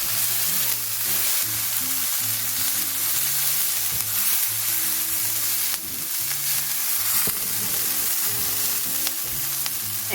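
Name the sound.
onions frying and being stirred in a pan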